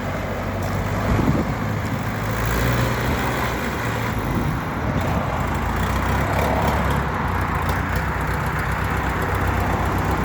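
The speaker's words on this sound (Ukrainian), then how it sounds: "Потужный трактор на 45 кінських сил" A 45-horsepower Sintai tractor engine runs at a steady idle, a continuous low rumble with even loudness throughout, with no speech over it.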